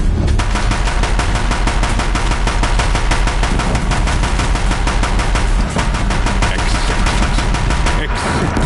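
Deathbringer war machines in Horizon Zero Dawn unleashing sustained rapid-fire gunfire, a loud continuous stream of evenly spaced shots pounding without pause for several seconds.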